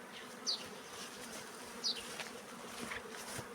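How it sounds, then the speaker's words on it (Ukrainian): A steady, droning hum of a honeybee swarm flying close by, with a couple of brief high chirps over the buzzing and no voices. "Деякі бджоли, котрі літають, та сядуть"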